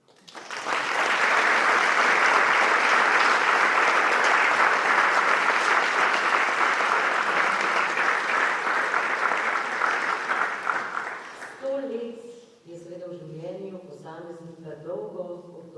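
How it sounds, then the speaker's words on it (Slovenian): A large audience in the Slovenian Philharmonic concert hall applauds at a ceremony marking a school for the blind's 100th anniversary: loud, sustained clapping for about eleven seconds that fades out, after which a voice begins speaking. "in to terja seveda tudi prvi aplavz"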